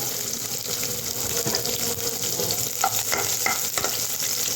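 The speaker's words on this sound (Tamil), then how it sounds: "எண்ணெய் காஞ்சிடுச்சு பூண்டு போடுறேன் பூண்டு நல்லா பூண்டு வரவில் வரட்டும்" Garlic sizzling in hot oil for shark puttu, a loud continuous crackle close by with brief stirring clatter toward the end.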